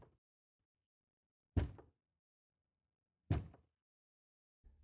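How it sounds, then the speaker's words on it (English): Slow, evenly spaced knocks on a bedroom door, each a dull, close thud about every second and a half, separated by total silence. "Then, 4 knocks sounded from the other side."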